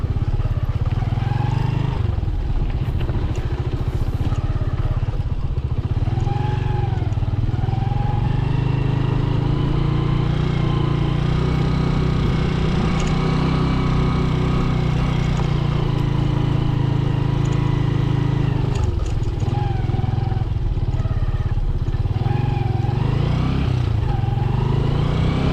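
A lowered motorcycle ridden along a rural road near a dam construction site in La Union, its engine droning loudly and continuously close by with shifts in revs and some clatter, under occasional talk.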